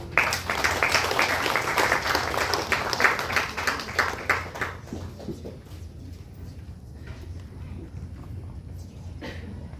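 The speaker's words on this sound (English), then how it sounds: "Come on, another big round of applause." Audience applause at an outdoor reception for the Miss South Pacific pageant in Apia, Samoa: dense, fairly loud clapping for the first few seconds, then thinning into scattered claps and background crowd noise.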